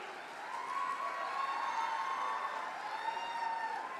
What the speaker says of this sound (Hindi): जोरदार तालियां, ताकि तालियों की आवाज उन तक पहुंचे।